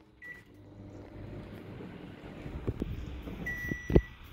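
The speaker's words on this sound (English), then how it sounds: "put it in the other plate, and pass in the microwave for half a minute." A microwave oven hums steadily while heating two marshmallows on a plate for s'mores with a chocolate block. A short electronic tone sounds near the start and another near the end, followed by a clunk as the door opens.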